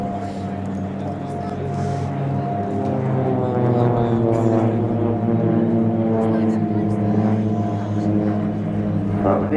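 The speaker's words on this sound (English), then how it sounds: "This was the simulated air combat of the PC-7." Swiss Air Force PC-7 propeller aircraft in a team flying display at RIAT 2018 give a steady, droning engine hum that swells and fades throughout, heard under an announcer speaking over a public address.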